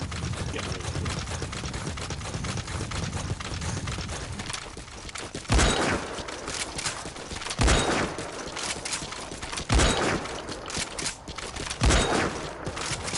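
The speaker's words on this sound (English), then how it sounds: "let's get that rocket launcher and get rid of it" Heavy rocket launcher shots in Metal Gear Solid 5 land as four loud, booming thumps spaced about two seconds apart over a constant rumbling, crackling din.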